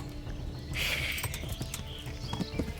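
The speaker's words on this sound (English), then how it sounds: "No, my horse." A horse in Kingdom Come Deliverance gallops off, a quick patter of hoofbeats with a brief whinny near the start, fairly faint against the background and fading away.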